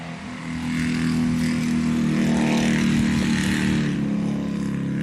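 A loud vehicle with its muffler removed drives down the road, its raw, rumbling exhaust roar swelling quickly and holding steady close by before easing off slightly, with no voices.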